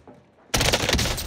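A single loud gunshot in Call of Duty Warzone, likely a sniper or DMR round, cracks in abruptly after a quiet moment, then rings out and echoes for about a second.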